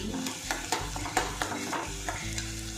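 Pav bhaji ingredients fry in a pan while a spoon stirs them, giving a steady sizzle broken by repeated close scraping and clinking strokes against the pan, no speech.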